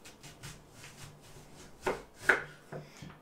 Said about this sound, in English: So I'm going to cut off a slice again.